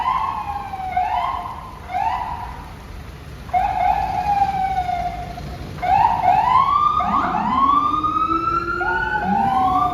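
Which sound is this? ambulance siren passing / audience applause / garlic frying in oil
ambulance siren passing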